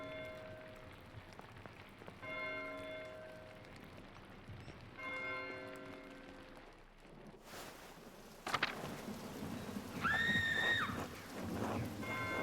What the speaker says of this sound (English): This can't be all be because of the storm.